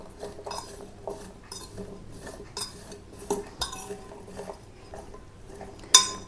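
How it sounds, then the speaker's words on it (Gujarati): A spoon stirs amla pieces with spices in a bowl, clinking and scraping against the dish in an irregular rhythm, with a sharper clink near the end. "હવે આપણે ચમચીથી જ આ બધી વસ્તુઓને મિક્સ કરી લેશું"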